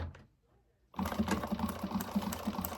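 A sewing machine back stitches a pocket onto a bag. A brief quiet pause gives way to a close, steady, rapid mechanical whir and needle chatter that runs to the end.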